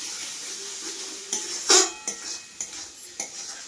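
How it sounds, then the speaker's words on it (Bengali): Tomato frying in a pan, a soft steady sizzle with a few sharp clicks and scrapes from a utensil stirring it, close and fairly quiet. "এইভাবে এবার আমি কিছুক্ষণ এটাকে ভাজবো।"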